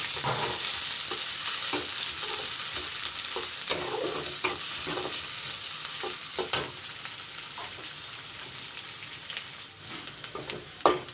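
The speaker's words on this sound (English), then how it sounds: "Put the chopped onions and chilies first." Chopped onions and chilies fry in a pan with a steady, close hiss and crackle, broken by occasional spoon taps and scrapes as the pieces are stirred.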